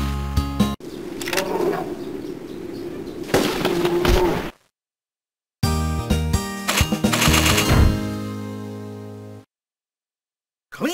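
Gunfire in the Trophy Hunting: Bear & Moose arcade game: loud, dense bursts of blasts and rattling reports over a busy game soundtrack, broken by short silences.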